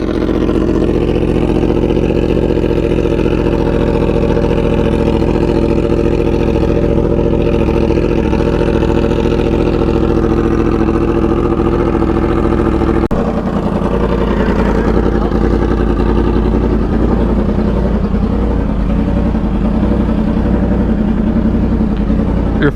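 A Yamaha R1 fitted with an SC Project aftermarket exhaust idles loudly up close, a deep, steady rumbling drone with a slight shift in tone partway through and no talk over it.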